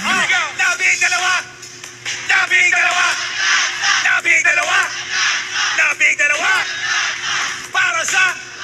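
Packed rally crowd at the Cuneta Astrodome roaring, yelling and cheering continuously and loudly, with bursts of shouting swelling and dipping throughout.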